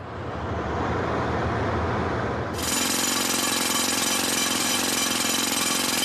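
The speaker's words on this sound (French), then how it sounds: "le murmure des prières a été remplacé par le bruit des marteaux-piqueurs" Jackhammers pound at a construction site in the holy places near Mecca, a loud continuous chattering roar that jumps sharply louder and brighter midway, with no voices.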